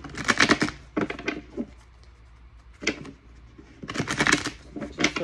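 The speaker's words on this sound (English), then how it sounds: "Let me shuffle first a couple times." Tarot cards shuffled by hand in several quick riffling bursts, close and crisp, separated by brief pauses, with the busiest flurries at the start and near the end.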